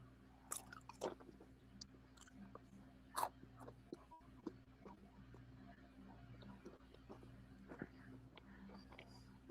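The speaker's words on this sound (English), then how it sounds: "So like you're eating Cheetos." Faint close-up crunching and chewing of crunchy corn chips like Cheetos or Doritos, scattered irregular bites over a steady low hum, quiet and near the microphone.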